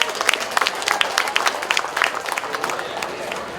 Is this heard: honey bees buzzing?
no